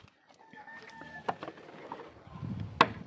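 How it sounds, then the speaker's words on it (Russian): Roosters crow a short way off on a small farm after a windy day, with a strained, wavering call rising over faint background clucking and rustle, then a sharper burst near the end. "петухи орут"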